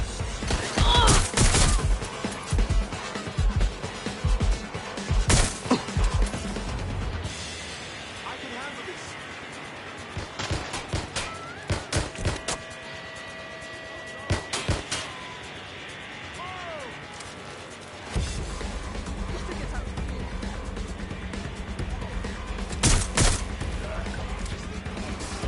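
Bursts of rapid gunfire in a Watch Dogs Legion street shootout, sharp automatic volleys and single shots coming in clusters, loud and near, mixed with mechanical clatter and occasional shouted voices.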